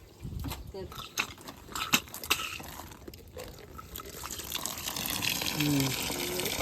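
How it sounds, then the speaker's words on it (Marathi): Water gushes steadily from a water tap on a farm, a rushing wash that grows stronger toward the end, with people talking over it throughout. "लय पुढे येते पाणी."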